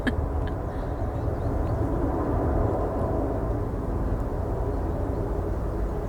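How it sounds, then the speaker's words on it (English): A steady, broad roar of a distant aeroplane passing overhead, holding an even level throughout with no voices. "Aeroplane. Oh joy, there hasn't been one all morning."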